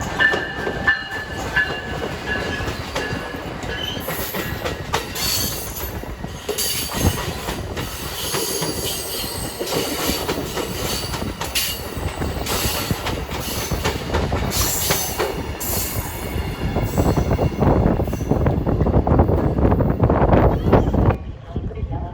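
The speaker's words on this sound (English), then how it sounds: "we made it just in time for the next outbound Hiawatha as it began its journey north to Milwaukee." An outbound Hiawatha passenger train heading north to Milwaukee passes Tower A2 in Chicago, wheels clacking and squealing over the rails as the rumble builds and grows louder toward the end, heard from nearby trackside.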